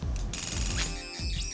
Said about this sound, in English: Locking doors.